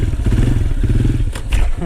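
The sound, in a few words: motorcycle doing a wheelie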